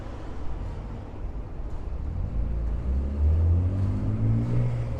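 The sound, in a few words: BMW E36 straight-six car engine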